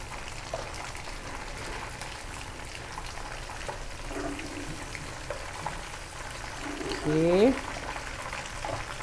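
Chicken pieces frying in oil for pineapple spiced chicken, a soft continuous sizzle and bubbling that continues under a speaking voice.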